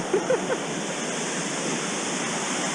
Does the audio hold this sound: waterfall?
yes